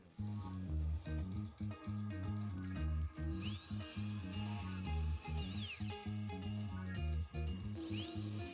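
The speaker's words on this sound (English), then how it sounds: "First, I drill with a thin drill bit and then I enlarge the holes to 6 mm." A drill with a thin bit bores holes in Textolite, a steady loud motor hum with a rapid pulsing beat and rising high whines as the bit bites in, heard alone without speech.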